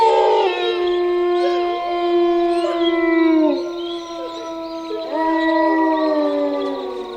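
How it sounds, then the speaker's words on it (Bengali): Long, wavering howls from a jackal, close and clear, two drawn-out calls with a brief dip between them against a quiet background. "জমঘোষক শেয়ালের ডাক।"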